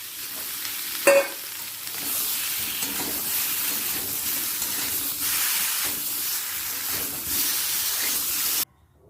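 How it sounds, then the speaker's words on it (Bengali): Potatoes and cauliflower frying in mustard oil in a pan, a steady close sizzle and hiss lasting throughout, with one brief sharp clatter early on and no talking. "আলুটার সাথে একই সাথে ভেজে নেব ফুলকপি"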